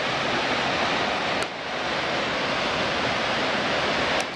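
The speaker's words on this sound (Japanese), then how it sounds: "すごい大きい滝です。" A large waterfall at Sennin Dam roars steadily and loudly as a dense, broadband rush of falling water, briefly dipping near the middle before continuing unbroken, with no voices.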